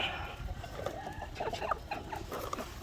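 Game fowl hens starting to lay eggs cluck softly in a few short, scattered calls, faint and fairly close against a quiet background.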